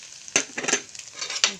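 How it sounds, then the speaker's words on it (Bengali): Flattened rice (chira) fries in hot oil in a thin wok, a light crackling sizzle broken by several sharp bursts of stirring and scraping. "তেল গরম হয়ে গেছে, আমি চিরাগুলো দিয়ে দিই।"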